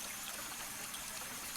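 Steady rushing and trickling of a waterfall in a game scene, a faint, even wash of water with no voices.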